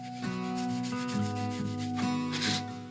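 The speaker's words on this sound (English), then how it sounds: "So just give it a wipe on all over" Cloth rubbing wood finish over a wooden cookbook stand, a steady soft scrubbing and wiping texture of continuous strokes, close and fairly quiet with no talking.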